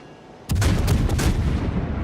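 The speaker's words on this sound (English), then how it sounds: "So we're going to start laying down fire on the Ahoytnik." Naval gunfire from HMS Fiji in World of Warships: a sudden heavy blast of shots in quick succession, booming and sustained with rolling echoes, no talking.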